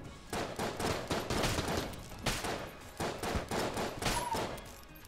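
Rapid gunfire bursts in the video game Enter the Gungeon, loud repeated volleys broken by brief pauses, with no talking over them.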